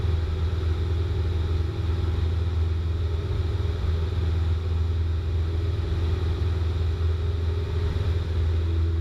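Small airplane engine throttling up during a left climbing turn, a steady, loud low drone with a strong engine hum holding evenly throughout, no voices.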